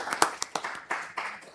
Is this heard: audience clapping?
yes